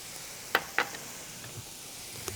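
Tomato paste hits a hot pan with vegetables, giving a faint, steady sizzle broken by two sharp clicks near the start and a soft tap toward the end, with no talking.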